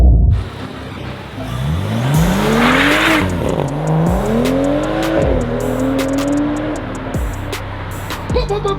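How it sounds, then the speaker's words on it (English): A BMW M135 engine revs hard through several rising and falling pulls, loud and close, with a tire squeal and faint clicks underneath. "do you see how crazy my BMW M135 is?"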